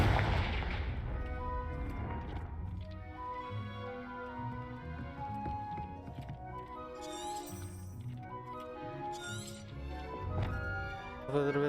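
Fire-spell blasts in the Hogwarts Legacy video game, sharp booming impacts rising out of a busy layered game soundtrack with musical tones throughout, several bursts spread across the stretch.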